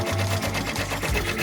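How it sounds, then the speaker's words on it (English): Commercial embroidery machine, a Brother PRO X PR1055X or Melco EMT16X, stitching out a design with a fast, rhythmic mechanical chatter of needle strokes, close and loud, heard alone. "That's the stitching speed of this machine. That's how fast to stitch it, that design."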